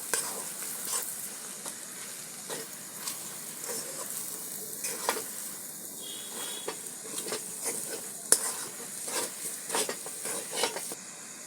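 Grated carrot laddu mixture stirred in a pan, a continuous soft sizzle and hiss with frequent light scrapes and taps of the utensil, close and steady throughout with no talking.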